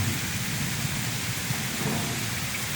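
Heavy rain pours steadily during a thunderstorm under a tornado warning on a residential road, a loud, dense, continuous roar of rainfall with low rumbling underneath and no voices.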